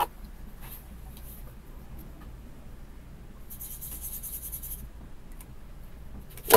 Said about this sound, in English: let me draw something real quick